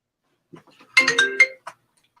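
A short electronic phone ringtone from an incoming spam call, a quick cluster of bright chiming notes after a few faint blips, then a final short tone, with no talking.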